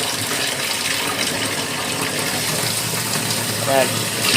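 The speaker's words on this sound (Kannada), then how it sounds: "ಹೊಸದು ತಗೊಂಡ್ ಬಂದೆ ಶವರ್ ಇದು ಯಾವ ಥರ ನೀರು ಬರುತ್ತೆ" Water sprays steadily from a newly bought shower head, a constant broad hiss with a low hum beneath, while a person talks over it.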